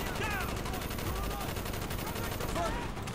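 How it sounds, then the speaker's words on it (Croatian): Rifle gunfire in Call of Duty Black Ops, a dense stream of rapid shots in a sustained burst at steady loudness, with faint game voices and effects underneath. "Pucam inače bez veze ono za zvuk i da vidite recoil ili sve."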